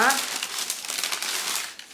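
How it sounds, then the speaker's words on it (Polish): Gift wrapping paper crinkles and rustles continuously as it is opened, close and fairly loud, with a voice briefly heard at the start. "Zapakowane jeszcze w dodatkowy papierek, żeby nie podglądała."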